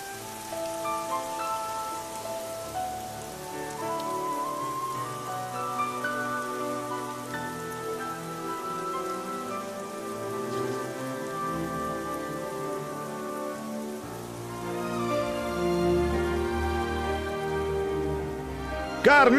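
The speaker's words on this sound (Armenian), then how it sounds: "անձրև է եկել" Rain falls steadily on surfaces after a sudden turn in the weather, a continuous patter beneath a bed of music.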